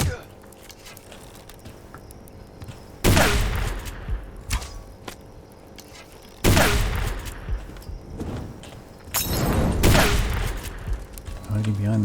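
Video game gunfire in a wolf-hunting game: three loud bursts of shots several seconds apart, each a sharp crack with a rolling tail, with quieter footsteps and ambient noise between them.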